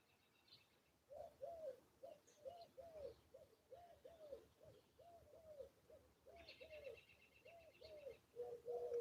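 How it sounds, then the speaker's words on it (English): Outdoors, a bird repeats a soft cooing call in a steady rhythm, each phrase close and clear, with faint chirps from other birds now and then. "Stand here and listen to the birds."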